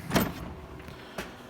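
The bottom drawer of a Harbor Freight 72-inch tool box slides open, giving a short rolling rasp of its runners followed by a fainter second slide, close and brief.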